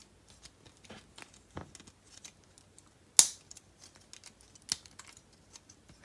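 Plastic panels of an Iron Factory EX-28 Burning Slug Transformers toy being folded down and tabbed into place: soft, sparse clicks and rustles, punctuated by two sharper close-up snaps, with no talking.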